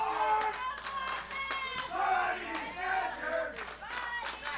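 A wrestling crowd in Paulsboro cheers and claps for the Body Snatchers tag team, with clustered sharp claps, shouts and whoops close by, while voices call out excitedly over the noise.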